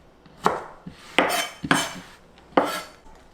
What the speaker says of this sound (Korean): 이렇게 썩큰 거는 그냥 이렇게 쏙똑쏙똑 잘라주시면 돼요.